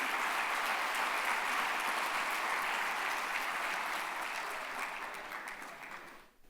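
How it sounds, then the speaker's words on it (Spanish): Audience applause welcoming Chile's Minister of Transport and Telecommunications, Juan Carlos Muñoz, at an infrastructure and logistics seminar panel: dense, steady clapping that holds evenly for about five seconds before fading out. "a quien recibimos con un aplauso"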